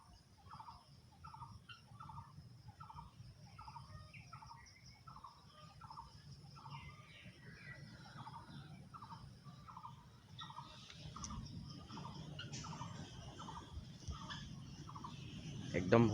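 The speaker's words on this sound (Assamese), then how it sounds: "সৰুকেইটা হাঁহ।" Small ducklings at a flooded village pond give a steady run of soft, evenly spaced peeps over low wind rumble, with a louder rustle and handling noise building near the end.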